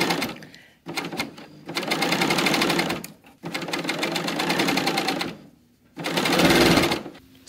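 Sewing machine stitching the seams of a T-shirt swing dress in loud, steady mechanical bursts, three long runs separated by brief pauses, close up with no talking.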